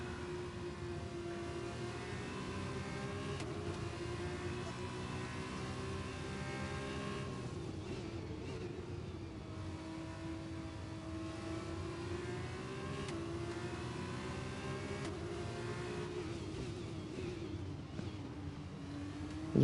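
An F2 race car engine in a racing game drones and revs steadily at a moderate level, pitch rising and dipping through gear changes with no pauses.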